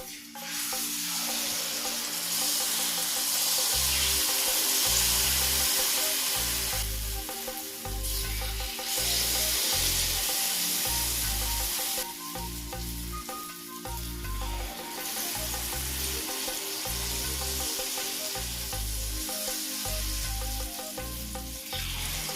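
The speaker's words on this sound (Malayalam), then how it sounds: "നമുക്ക് ഉണ്ണിയപ്പ ബാറ്റർ കോരി ഒഴിച്ചു കൊടുക്കാം" Unniyappam batter sizzles and fries in hot oil in a pan, with a loud, continuous close crackle that rises and falls as the batter is poured in and stirred. No one speaks.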